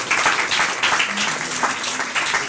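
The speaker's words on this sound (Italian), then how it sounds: "facciamo un applauso" An audience at a poetry event applauds a poet being welcomed, a full, continuous crowd clapping that stays loud and even throughout, with a faint voice beneath it.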